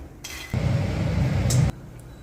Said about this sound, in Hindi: मखाने भूनने में 4 से 5 मिनट लगेंगे